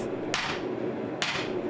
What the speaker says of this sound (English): do a lot of little hammer blows to really clean up the forging